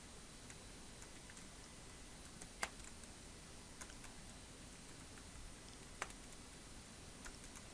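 Quiet, sparse clicking of a computer keyboard being typed on, with scattered faint key taps and a couple of sharper clicks over a steady low hiss.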